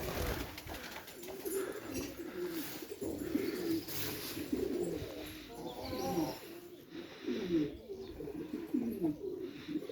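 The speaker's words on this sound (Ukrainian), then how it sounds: "А торкоти вони які файні" Several pigeons coo continuously, soft throaty calls overlapping in a steady murmur, with faint chirps in the background.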